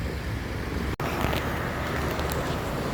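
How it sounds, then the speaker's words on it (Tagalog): A jeepney passes on a road in a Philippine barangay, a broad rumble of engine and tyre noise with roadside traffic ambience and a brief dropout near the start, fairly loud and close. "Ay, may jeep na."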